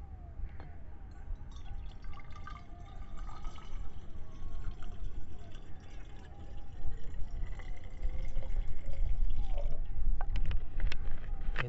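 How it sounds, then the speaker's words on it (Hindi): Ordinary water is poured into a steel Milton water bottle, making a faint trickling fill with small drips. The sound is quiet and close, slowly rising in level toward the end. "इस मिल्टन के वाटर बोतल में डालते हैं पहले नॉर्मल पानी"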